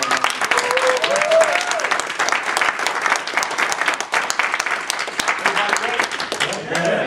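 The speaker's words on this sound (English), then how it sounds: "Everybody give yourself a round of applause" An audience claps in a sustained round of applause, dense and steady throughout, with a voice talking over it and a few cheers mixed in.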